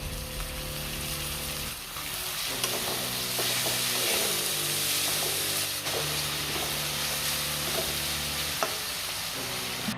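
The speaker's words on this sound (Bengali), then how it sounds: "দু মিনিট হলো এটা ফ্রাই হচ্ছে" Grated onion fries with ginger-garlic paste in a pan, a steady dense sizzle with occasional stirring scrapes and small crackles, no talk, for Bengali palak paneer.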